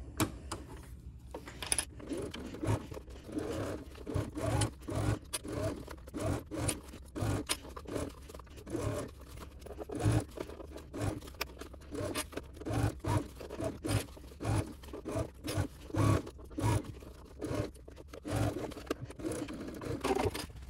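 Sewing machine stitching the side of a crossbody bag, rapid rhythmic clattering in repeated short bursts with brief pauses, close and moderately loud, with no talk over it.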